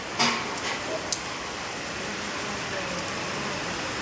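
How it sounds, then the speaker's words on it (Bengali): Steady rain hisses evenly throughout, with a couple of brief knocks near the start. "এই দেখো বৃষ্টি শুরু হয়েছে"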